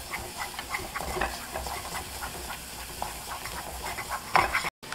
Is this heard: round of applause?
no